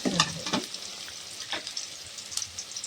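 Chopped onion frying in hot oil, a steady close sizzle with a few louder stirring scrapes early on, no voices.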